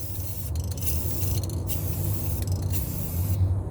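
Black semi-gloss spray paint hisses from an aerosol can onto the welded frame of a 1998 Ford Ranger 4x4 near the upper shock mount, in several close bursts with short pauses between them.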